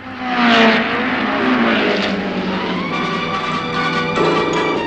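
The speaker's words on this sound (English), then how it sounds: "Earl Mountbatten arrived by helicopter" A helicopter arriving at a motor racing Grand Prix, its engine and rotor droning loudly and steadily overhead, rising and shifting in pitch as it passes close by.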